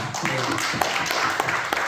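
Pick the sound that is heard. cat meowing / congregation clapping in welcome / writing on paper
congregation clapping in welcome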